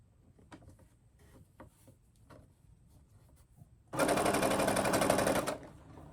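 A Brother sewing machine runs in one loud, steady burst of about a second and a half, stitching a back tack on folded fabric after quiet handling noises.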